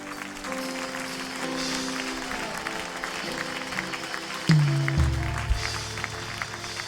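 A church congregation claps and cheers during a French-language Sunday service, with steady applause over music and sustained tones, and a deeper swell joining in partway through.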